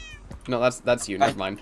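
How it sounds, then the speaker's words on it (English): A cat gives a short meow near the start, followed by people talking over the rest. "Is that you? That's a cat."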